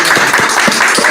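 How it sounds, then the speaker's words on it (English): Crowd applause from an audience at a confrontation with Congressman Ritchie Torres, a steady, dense wash of clapping close and loud with no pauses. "Listen to all the people clapping."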